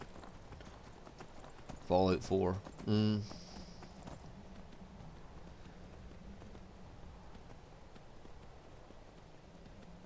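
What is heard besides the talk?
horse hooves galloping in Skyrim video game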